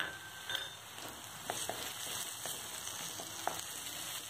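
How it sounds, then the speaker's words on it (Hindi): Onion and potato frying in a pan with turmeric powder, a soft continuous sizzle with scattered stirring clicks and scrapes, close and fairly quiet, no speech. "मिक्स करके फिर से थोड़ा सा फ्राई करना है।"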